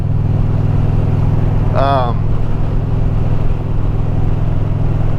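A Kawasaki Vulcan 900 Custom motorcycle engine running steadily while riding, a loud continuous low rumble throughout with a brief rising whistle-like tone near the middle.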